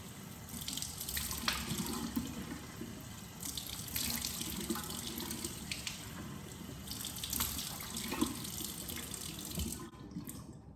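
Water runs from a tap into a sink while a face is gently rinsed, a close continuous splash with uneven bursts as hands scoop and release water, ending abruptly.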